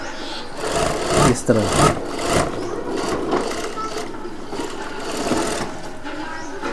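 Sewing machine stitching fine cloth at the shoulder seam of a kurta, running steadily and close up while a voice talks over it.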